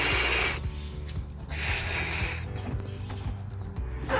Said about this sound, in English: we're gonna blow up these bad boys real big